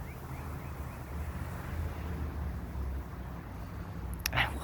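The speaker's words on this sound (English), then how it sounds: "Oof, the wind's a little chilly." Chilly outdoor wind roaring steadily across the microphone as a low rumble throughout, with a brief sharp rustle near the end and no voices.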